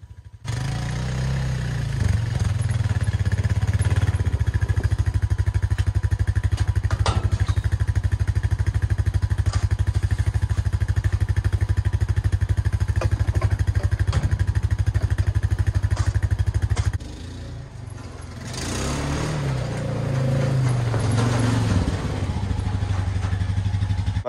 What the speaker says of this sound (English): there I come with the Isuzu Trooper again. Just kidding, it's a Honda Quad.